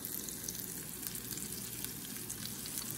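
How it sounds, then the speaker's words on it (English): Steady, crackling sizzle of flounder frying in olive oil in a hot pan on a beach, a continuous hiss with small pops throughout, at moderate volume. "Love the sizzle."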